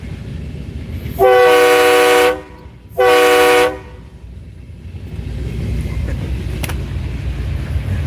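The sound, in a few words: train horn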